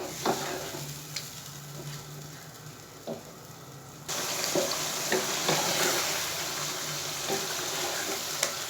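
Chicken with yogurt frying uncovered in a pan, a continuous close sizzle with periodic stirring clicks that grows louder and brighter halfway through.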